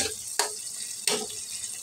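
Water is poured into a cooking pot for sardine and squash soup, two short splashing pours with gentle trickling and dripping between them, close and clear with no talk.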